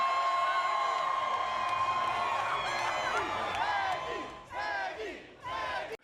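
A rally crowd cheers and whoops loudly, with shouting voices rising in waves, dipping briefly near the end before surging again.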